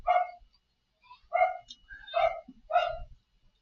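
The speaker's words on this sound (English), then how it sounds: "Y'all had to excuse my dog in this one." A dog barks four times in a row, close and fairly loud, each bark short with gaps of quiet between them.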